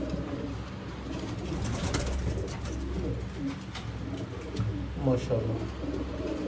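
Sialkoti golden dab pigeons coo repeatedly from close by, soft throaty calls overlapping while someone speaks briefly over them.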